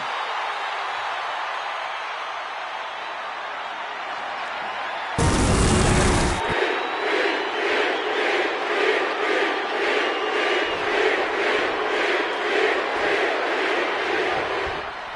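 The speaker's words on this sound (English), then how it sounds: "The crowd is on their feet for Jey Uso." Wrestling arena crowd at Clash in Scotland cheering and chanting for Jey Uso, a dense roar with a sharp pyro-like burst midway, followed by rhythmic, pulsing crowd chants that continue loudly to the end.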